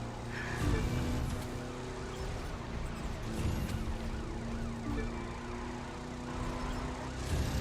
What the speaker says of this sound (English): I'm chasing a police car.